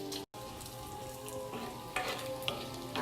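Bacon frying in its own fat in a pan, a steady close sizzle with a few louder pops and crackles toward the end and a brief dropout near the start.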